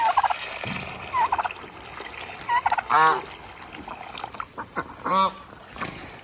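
Geese honking at feeding time, several loud and close bursts of calls in an uneven rhythm over quieter background noise.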